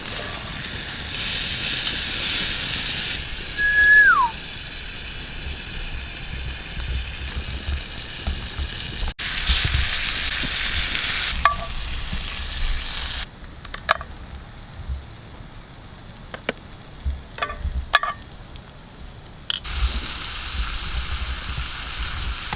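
Steaks sear over an open fire outdoors, a steady crackling sizzle with scattered pops and clicks, fairly loud and close, with a brief whistle-like tone early on.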